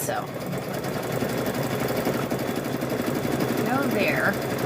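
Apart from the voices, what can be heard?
sewing machine stitching backing fabric and batting of a quilt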